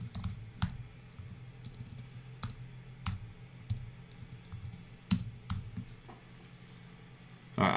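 Keys click on a computer keyboard in irregular bursts of typing, close and fairly quiet, with short pauses between strokes.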